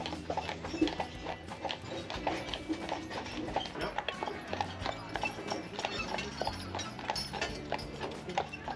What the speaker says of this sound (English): The sound of the horses clip-clopping through the streets